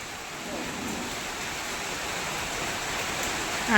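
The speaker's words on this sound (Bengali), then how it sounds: "এখন মেলা যাবে না বৃষ্টি পড়ছে" A steady, even hiss of rain falls on laundry hung on a line, a soft wash of noise with no clear breaks and no voices.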